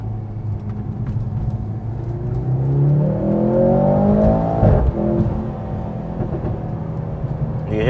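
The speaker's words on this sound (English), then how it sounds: "You can hear that backfire a little bit." A Mercedes-AMG C43 drives across Beaufort Dam at Lake Lanier, its engine droning steadily under wind noise, with a single short exhaust pop partway through.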